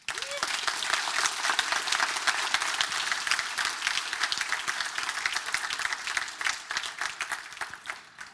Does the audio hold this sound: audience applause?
yes